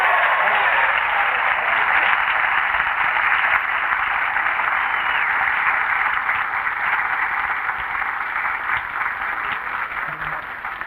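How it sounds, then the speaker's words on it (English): A studio audience at a 1969 television talk show gives a long, dense round of applause, steady and full for most of its length and then thinning slightly toward the end. "So I would like a nice round of applause, if you will"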